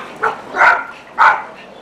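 Neighboring dogs bark a few times in an outdoor backyard setting, sounding moderately close, with short, separate yips and barks spread across a quiet background.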